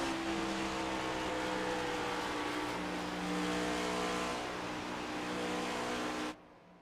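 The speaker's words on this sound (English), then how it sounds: "we're watching a battle between Cody McElwain as Cody gets in the wall again" Next Gen stock cars race at Darlington in a sim racing league, their engines droning loudly and steadily in a dense pack. The roar swells briefly, then cuts off abruptly near the end.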